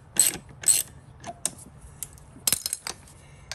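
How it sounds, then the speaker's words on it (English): T-wrench slowly loosening a T45 coupling bolt on a 2016 Segway X2, a few sharp metallic clicks and ratcheting ticks, close and intermittent, with quiet pauses between. "Now I'll break the other one loose slowly so I don't strip"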